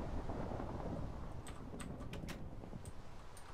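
A lightning storm in the video game Minecraft gives a deep, rolling rumble of thunder with a windy, rain-like hiss, steady and fairly loud, with a few faint clicks on top.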